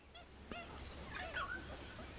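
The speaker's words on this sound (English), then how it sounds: "watch the pelicans out on the water and listen to the ducks and the rest of them" Water birds call out on the water on a calm afternoon: a few honking, goose-like cries and short squawks, fairly faint and distant over low ambient noise, with no talking.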